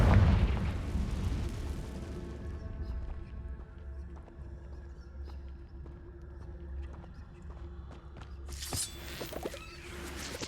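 A Confringo spell goes off in Hogwarts Legacy, opening with a loud boom that settles into a low rumbling hum, with a sharp hissing burst near the end.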